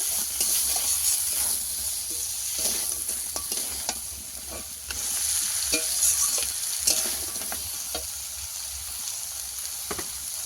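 Sea crab sautés in a hot pan with a steady loud sizzle and hiss, broken by repeated scraping stirs of a utensil against the pan, continuous throughout with no voices.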